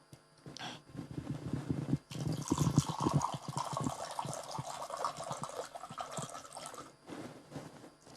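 Water is poured into a glass in a steady, close stream with a burbling fill lasting several seconds, then a brief pause followed by a softer trickle.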